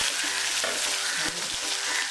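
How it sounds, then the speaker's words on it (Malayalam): Mustard seeds fry in hot oil in a pan while chicken thoran is being made, giving a loud, close, steady sizzle broken by scattered sharp pops. "ഇനി നമുക്ക് കടുക് വറുത്തു എടുക്കാം"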